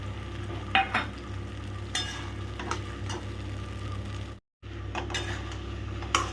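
Poppy seed and cashew paste is stirred into fish cooking in a pan: a low, steady frying hiss with occasional utensil clinks and scrapes, broken by a brief moment of silence partway through.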